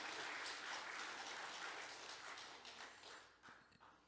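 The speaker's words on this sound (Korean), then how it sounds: "다시 한번 박수해드리겠습니다" A church congregation applauds after a choir anthem at a worship service, a faint, distant wash of many hands clapping that slowly tapers off.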